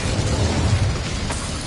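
Incendio fire spell cast in Hogwarts Legacy on PS5, a sustained roaring whoosh of flame with a dense low rumble and a brief crackling burst near the end, loud and close with no talking.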